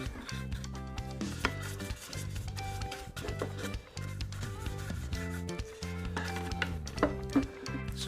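Oil being rubbed quickly and roughly onto a sanded dovetailed timber trinket box, with close, continuous rubbing and scraping strokes in an irregular rhythm and some knocks of the box, with no talking.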